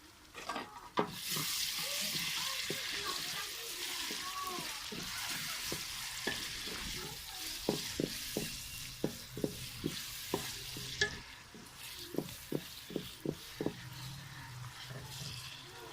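Tomatoes and green chilies frying in a pan for a cabbage, chickpea and carrot sabzi: a steady close sizzle runs throughout, broken by sharp scraping stir strokes that cluster toward the end, with no talking.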